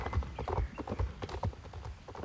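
Horse hooves clip-clop on the ground in the online horse-riding game Star Stable Online, a quick, even trotting rhythm of soft, close hoofbeats, heard alone.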